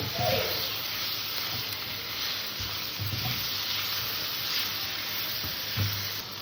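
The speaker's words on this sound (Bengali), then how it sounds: "টমেটোটা দিয়ে দিলাম এবার খুব বেশি না একটু হালকা করে কষে নেব" Medium tomatoes cut into long slices frying in a pan for a potato and small carp fish curry, a continuous moderate sizzle and hiss with occasional soft stirring knocks.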